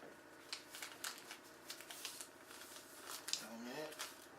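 Paper folded by hand into an origami bird, with soft crisp creasing and rustling taps scattered through the moment under quiet talking nearby.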